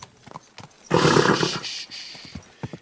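Horse in the Kingdom Come: Deliverance II video game gives a loud, broad neigh lasting about a second, with scattered hoof clops before and after it.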